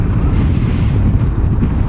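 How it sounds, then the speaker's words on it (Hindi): Strong wind buffets the microphone during a motorcycle ride on the Mahindra Highway in Nepal, a loud, continuous low roar and rumble filling the whole stretch with no talking. "क्रेजी हवा चलते हुए भाई।"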